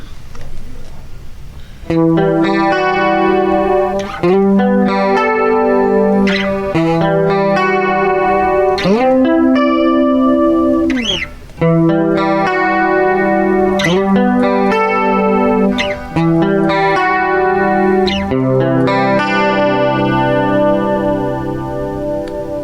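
Electric guitar through a TC Electronic 3rd Dimension chorus pedal with buttons 1 and 3 engaged, a subtle doubled chorus on strummed chords and picked notes, several phrases with brief pauses between them, played close and clear.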